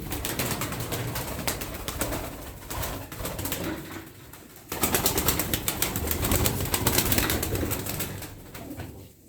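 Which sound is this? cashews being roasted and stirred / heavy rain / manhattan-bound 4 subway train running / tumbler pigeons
tumbler pigeons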